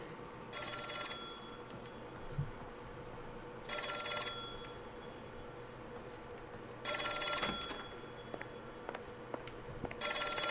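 A telephone in the video game L.A. Noire rings in four spaced bursts of a bright old-style bell over low ambient room hum, with a soft thud between rings.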